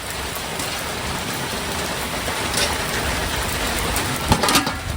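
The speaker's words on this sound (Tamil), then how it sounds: "ஃபுல்லாக மழை தண்ணி அப்படியே அடுப்பும் மழை நஞ்சிடுச்சு" Heavy rain pours down steadily over an outdoor cooking fire, a dense continuous hiss with a few louder splashes near the end.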